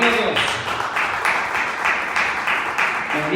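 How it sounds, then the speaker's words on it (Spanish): A church congregation in Lomas de San Javier, Oaxaca, Mexico claps together in steady, loud applause that swells in waves, with voices mixed into the crowd noise. "Denle un aplauso al Rey de la Gloria"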